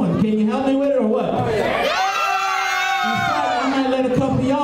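A wrestling crowd at a live dark-match show cheers and whoops in a loud, sustained swell, with a shouted voice over the noise.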